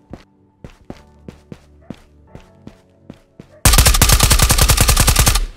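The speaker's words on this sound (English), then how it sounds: "There's a lot of shots that way." Gunfire in the video game Ghosts of Tabor: a string of single shots at even intervals, then a loud, sustained rapid burst of automatic fire that ends abruptly.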